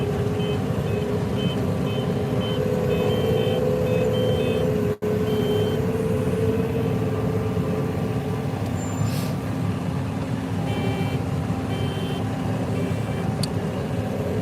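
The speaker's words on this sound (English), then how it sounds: "The beeping is the grain tank full alarm" Grain tank full alarm on a combine harvesting a corn field gives repeated, evenly spaced electronic beeps over the steady rumble of the running machine, with no talk.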